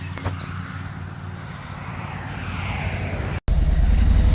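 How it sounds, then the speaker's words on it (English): A tractor engine roars at a tractor pull at a beach tractor show, a loud, steady low drone that builds slightly, with a brief dropout before it returns even stronger. "Barbie Beach tractor pull."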